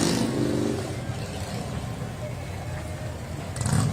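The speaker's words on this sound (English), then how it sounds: "Those motorcycles make quite a sound." Loud, steady engine rumble of motorcycles rolling past nearby in a Veterans Day parade, a continuous low drone that swells slightly at the end.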